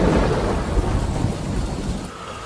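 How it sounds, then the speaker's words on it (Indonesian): Night thunderstorm with heavy rain, a dense continuous roar of rainfall and rolling thunder rumbling loudly throughout, no voices. "Tiba-tiba langit mengirim suara guntur dan halilintar yang membuat malam itu semakin"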